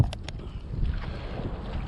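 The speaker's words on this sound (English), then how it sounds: "It's pretty windy" Strong wind buffets a small boat out crab fishing in a shallow creek on a wintry day with whitecaps, a steady low roar of gusts rushing across the microphone with a few faint knocks at the start.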